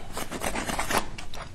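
Scissors snip through excess craft foam along the bottom edge of a piece of foam armor, giving a close, continuous rasping cut with repeated short strokes and no voices.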